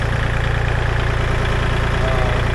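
A tractor engine running while moving a sawmill at about its weight limit, a loud, steady low-pitched diesel thrum with an even pulsing rhythm, close by and continuous.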